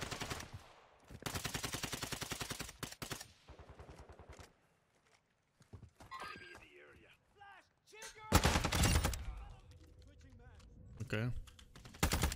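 Rapid bursts of ISO Hemlock rifle fire in a Call of Duty match, loud repeated volleys with gaps between, separated by quieter in-game sounds and a brief spoken word.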